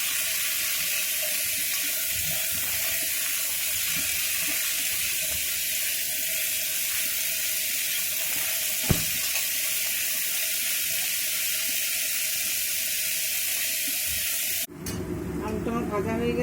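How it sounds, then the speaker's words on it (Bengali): Potatoes fry in a pan with a steady, broad hiss and sizzle that continues for the whole stretch at a constant level, changing abruptly in tone near the end. "এইভাবে আলুগুলোকে ভেজে নেব।"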